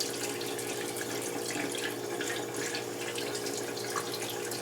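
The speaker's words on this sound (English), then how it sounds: "run a little bit of water through it" Water runs steadily from a tap over a hair brush, a continuous hissing splash with small drips and spatters, close and fairly loud, with no voices.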